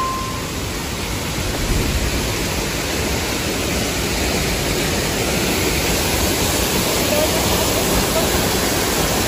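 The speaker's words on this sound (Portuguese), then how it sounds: "Já dá pra ver um pouco da cachoeira daqui." Steady, broad roar of the Cachoeira do Sossego waterfall in Canela, Rio Grande do Sul, heard from a trail overlooking it as continuous rushing water that fills the whole stretch without pause.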